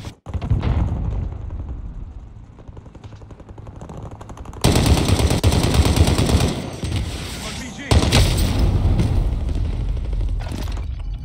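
Turret machine gun in Call of Duty Warzone firing in dense, rapid bursts, with a quieter stretch followed by loud sustained volleys mixed with booms and battlefield noise.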